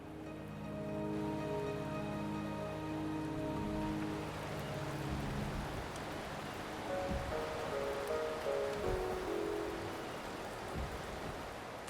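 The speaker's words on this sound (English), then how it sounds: "The rain is subsiding, and the sky will soon clear." Steady rain falls in the video game Wuthering Waves, a soft continuous hiss of drops with gentle sustained musical tones drifting over it.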